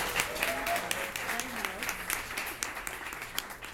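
Audience applause at an evening program introducing guests, a steady wash of many hands clapping that sustains throughout, with a few faint voices and a brief tonal whistle-like sound mixed in.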